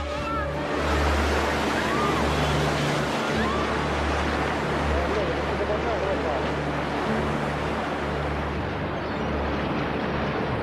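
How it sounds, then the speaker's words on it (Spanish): Tsunami waves surging along the coast of Japan, a continuous loud roar of churning water and debris that fills the whole stretch without a break. "Es una sucesión de olas que seguirán llegando durante muchas horas"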